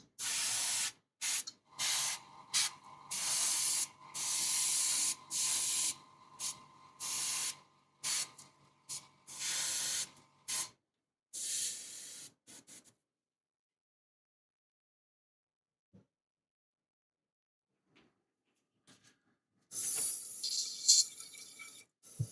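Airbrush spraying paint on a model rock: a series of short, close, sharp hissing bursts in an irregular rhythm, then near silence before a few more bursts toward the end.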